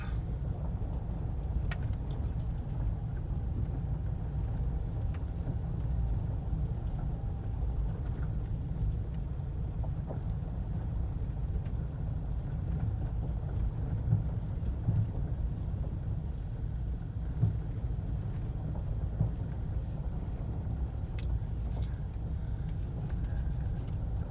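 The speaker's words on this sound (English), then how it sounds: "driving on these gravel roads, you may be hearing a little gravel in the deal" A car rolls along a gravel road at the Merrisach COE campground. The low rumble of the tires and engine runs steadily and close, and faint crunching and ticks of gravel sit over it. Nobody speaks.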